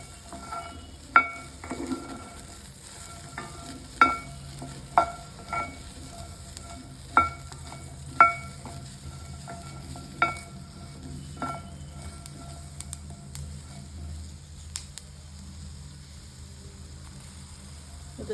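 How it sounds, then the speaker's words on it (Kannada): Turkey berries fry in an oiled pan with a steady sizzle, while a spoon stirs them and knocks sharply against the pan every second or two, close and clear. "ಇದು ಚಟಪಟ ಅಂತ ಸ್ವಲ್ಪ ಬಾಯಿ ಓಪನ್ ಆಗುತ್ತೆ"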